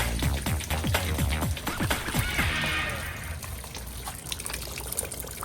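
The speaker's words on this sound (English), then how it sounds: "Flushing the coolant." Coolant flushing out of a BMW 335i's cooling system, a steady gushing, splashing flow of liquid heard close up, with a few clanks near the start.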